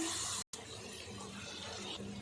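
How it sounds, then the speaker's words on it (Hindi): Steady pouring water with a brief break near the start, then a continuous splashing flow that runs to the end, fairly close. "अब थोड़ा सा पानी डाल देंगे"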